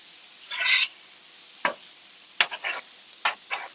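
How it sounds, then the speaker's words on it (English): Shrimp cooking in butter on a Blackstone flat-top griddle, a low background hiss broken by several sharp scrapes and clacks of a spatula pushing the shrimp around, close and fairly loud. "Now just put that shrimp on there and let that cook up."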